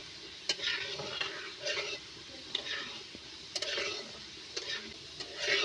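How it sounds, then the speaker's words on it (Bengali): Garlic frying in a pan for a vegetarian banana-flower dish, a soft continuous sizzle broken by repeated scraping stirs of a utensil against the pan at an uneven rhythm. "রসুনটা আমি ভালো করে এইভাবে ভেজে নেব।"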